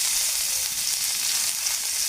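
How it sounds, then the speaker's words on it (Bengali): Cauliflower pieces fry in hot oil in a home kitchen, giving a steady, close, even sizzle with no talking. "এখন আমি এই তেলের পাড়িয়ে আমি ফুলকপিগুলো ভেজে নেব।"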